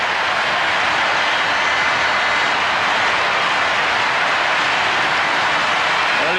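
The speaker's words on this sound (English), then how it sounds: "Listen to the crowd." A packed Davis Cup tennis crowd at the USA versus Great Britain decisive fifth rubber, Courier against Rusedski, roaring in a steady, loud, sustained wash of cheering and noise with no break across the stretch.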